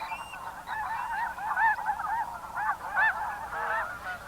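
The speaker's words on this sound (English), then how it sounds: "the first of the wild geese were beginning to wing their way south" Wild geese honk repeatedly while flying overhead, a chorus of overlapping nasal calls at moderate distance, steady and unbroken for several seconds with no talking.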